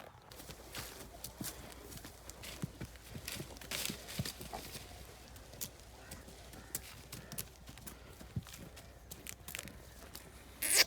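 A mare walks along a village path outdoors, her hooves giving a steady, irregular clip-clop at moderate distance, soft and continuous throughout.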